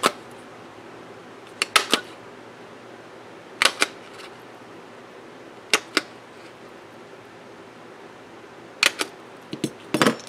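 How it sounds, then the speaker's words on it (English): A regular hole punch punching holes in an A5 paper insert, sharp isolated clicks and crunches in small clusters separated by quiet pauses, close and distinct. "take a regular hole punch and punch where you've marked at"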